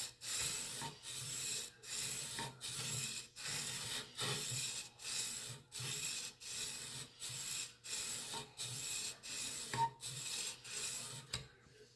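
Steady rasping strokes of a knife drawn across a sharpening stone on a Konigsberg Crutch guided sharpening system, about fifteen evenly spaced passes in a regular rhythm, close up with no talking.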